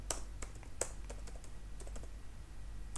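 Computer keyboard typing a command for a Laravel PHP project, a run of light, quick, irregular key clicks close by, with no talk.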